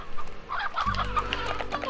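Roosters in the Slime Rancher game give a burst of close, clear clucking, with quick chattering calls followed by a lower sustained tone, and no talking.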